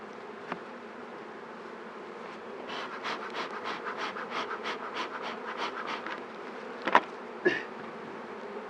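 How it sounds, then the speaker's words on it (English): Honey bees buzz around a beehive being moved, a steady drone with a rising series of rhythmic louder pulses near the middle and a couple of sharp knocks toward the end. "Those are all nurse bees"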